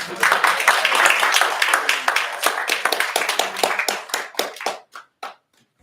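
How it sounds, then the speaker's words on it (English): Applause from a small audience at a grief panel discussion, fairly close clapping that starts dense and thins into a few scattered, separate claps before stopping. "So big round of applause."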